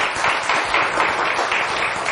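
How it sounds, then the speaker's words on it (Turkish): A studio audience at a Turkish TV word-game show claps steadily for a contestant, a loud, dense wash of applause that holds evenly for a couple of seconds with no voices on top. "O zaman bir alkış daha verin lütfen Büşra Hanım'a."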